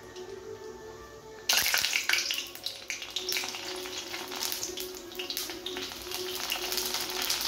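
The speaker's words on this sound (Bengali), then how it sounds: "তেলটা গরম হয়ে গেলে এর মধ্যে আমরা পাঁপড়গুলো দিয়ে পাঁপড়গুলো ভেজে নেব" Papads drop into hot mustard oil with a sudden loud hiss, then bubble and sizzle steadily, crackling close up with no voices.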